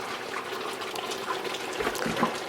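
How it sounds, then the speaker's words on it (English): Water pours steadily into a kitchen container of yam for blending, a close, continuous splashing trickle with no talk. "So I'll put some water here"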